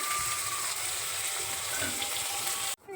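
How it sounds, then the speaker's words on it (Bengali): Steady hiss and crackle of fish frying in a pan over a gas flame in a home kitchen, loud and continuous before cutting off abruptly near the end. "এখানে তো মাছ ভাজা হচ্ছেই"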